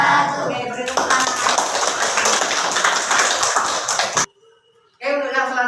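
Classroom applause after a group presentation, a dense burst of many hands clapping for about three seconds. It cuts off abruptly, leaving near silence before a voice resumes speaking.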